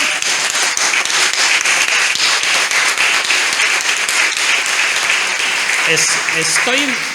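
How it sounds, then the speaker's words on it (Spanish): A church audience applauds steadily, many hands clapping in a dense, sustained wash, with a few voices and a brief whistle-like tone near the end. "Estos dos chicos, por favor, ¿podemos darles un aplauso?"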